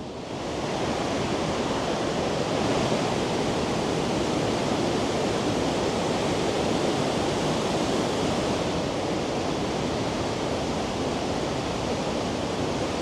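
A loud waterfall in the Jungfrau region of Switzerland roars as a dense, constant wall of rushing water, close and unbroken throughout with no talking.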